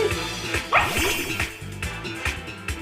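Fidough, the puppy-like Pokémon in Pokémon Scarlet on the Nintendo Switch, gives its cry as short synthesized yips and whimpering bow-wow sounds over steady game music, moderately loud.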